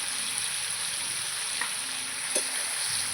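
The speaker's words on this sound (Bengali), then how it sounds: "দিয়ে একটু তেলের মধ্যে নাড়াচাড়া করবো" Food frying in oil makes a steady hiss, broken by a couple of faint utensil taps as it is stirred; no one speaks.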